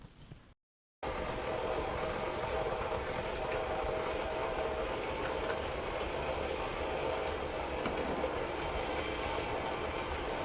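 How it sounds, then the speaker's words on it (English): An electric mixer beats eggs, butter and sugar into a fluffy batter for New York black and white cookies, a steady loud whirring drone that runs without a break after a brief silent gap at the start. "I'm going to beat this for a little bit to make it fluffy."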